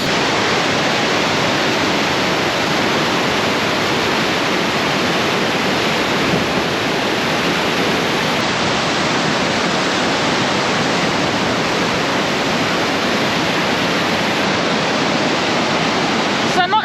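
Powerful roar of a waterfall in Norway near Ustedalsfjorden, Geilo, in autumn, a constant broad rushing wash of water that stays loud and unbroken throughout.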